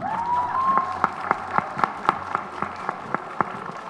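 An audience applauds for a speaker at a book fair event, a thinning round of individual claps in an irregular rhythm with a faint voice heard at the start.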